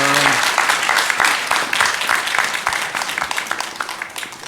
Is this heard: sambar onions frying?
no